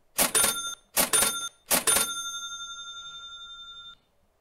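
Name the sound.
bell sound effect played on a live stream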